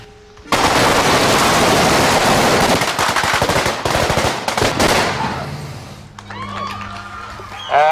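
Shotgun fire in a Back to the Future film scene, a loud dense barrage of blasts and crackling reports lasting several seconds, fading into a rumble with voices and shouting near the end.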